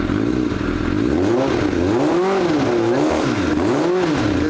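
A fuel-injected motorcycle engine idles and rises and falls in rhythmic revving waves, loud and close, the pitch swinging up and down several times without speech.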